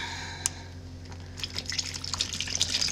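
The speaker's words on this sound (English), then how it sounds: "now I'm just gonna take my marinade and pour it on the top of this" Marinade is poured over Korean BBQ short ribs in a tray, a wet splashing trickle that starts with a single drip and then thickens into a steady pour, close and clear.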